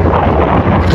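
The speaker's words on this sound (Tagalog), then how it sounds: "maalon at mahangin." Loud wind buffets the microphone at sea aboard a small fishing boat off Camiguin, a continuous heavy roar with low rumbling gusts.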